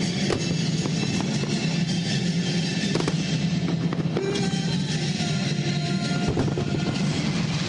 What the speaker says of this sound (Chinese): 上万颗绚丽烟火直冲云霄，爆亮出五彩缤纷焰火，照亮大高雄夜空